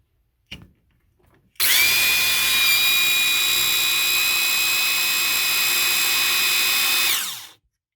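A Lavor Ninja pressure washer pump motor, running briefly dry, whines up abruptly and runs at a steady high pitch for several seconds before cutting off and winding down.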